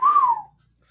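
A single clear whistled tone, rising slightly then gliding down and fading out after about half a second, followed by near silence.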